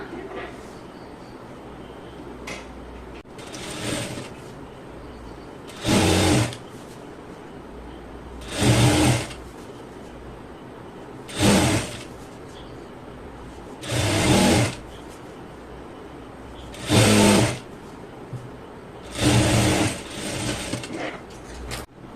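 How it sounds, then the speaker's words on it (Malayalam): Sewing machine stitching around a folded quarter-inch double hem on a shimmy garment, running in about seven short bursts of a few seconds each, close and clear with pauses between; faint room noise and handling in the gaps. "ഇതുപോലെ മടക്കിയിട്ട് ചുറ്റിലും ഒന്ന് സ്റ്റിച്ച് ചെയ്യാം"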